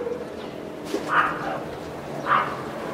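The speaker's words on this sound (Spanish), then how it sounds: "Empiezan los perros a ladrar." Two distant dog barks a second apart ring out over a steady murky background hum, faint and far off.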